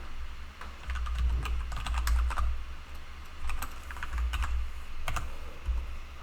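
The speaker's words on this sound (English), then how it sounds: "I can type in" Rapid clicking of a computer keyboard as a folder name is typed, steady close-up keystrokes in short bursts over a low background hum, with no talking.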